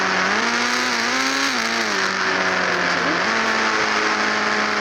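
A motorbike engine in the Indian Bike Riding 3D video game drones loud and steady, its pitch rising and dipping as the rider speeds up and eases off, with no talk over it.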